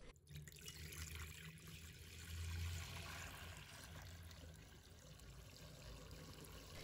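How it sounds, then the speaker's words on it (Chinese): Clean water pouring from a tap into a bowl of soaked dried squid, a steady close trickle and splash that swells briefly midway, with no talk. "倒入清水"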